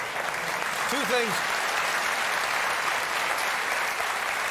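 Studio audience applause on a late-night talk show, a dense, loud, even wash of clapping that holds steady, with a brief voice speaking over it near the start.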